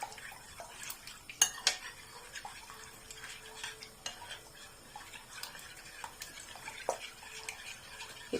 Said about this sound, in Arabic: هنقلبها كويس جدا كده في قلب اللبن